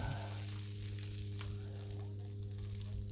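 Homemade spaghetti sauce bubbling on a Blackstone griddle, a soft low sizzle over a steady hum, with a few faint stirring scrapes over a few seconds.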